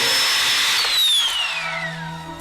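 A power drill whines steadily in a film's climax scene, its pitch sliding slowly downward as the motor winds down, loud and continuous with no speech.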